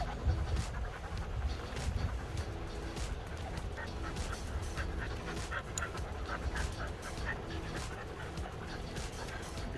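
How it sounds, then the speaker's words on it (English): Husky puppies panting close by at a kennel trailer, a steady run of quick breaths with faint whimpers and a few light barks from dogs in the background. "This puppy is going to go back into the trailer together with the other puppy."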